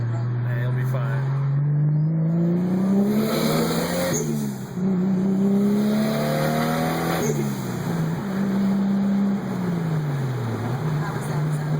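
A single-turbo Toyota Supra drives and accelerates hard, its engine note climbing through several gears in rising sweeps with brief dips at each shift, loud and close, while people talk over it.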